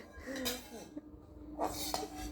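A toddler clinks toy dishes and pots while playing at cooking: a few light, scattered clatters and taps, close and quiet, with brief gaps between them.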